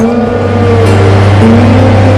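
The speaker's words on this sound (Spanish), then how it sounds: "Un solitario conductor maneja un camión de 18 llantas." An 18-wheeler truck cruises along a lonely highway with a loud, steady engine drone and a low hum that holds evenly throughout, with no voices.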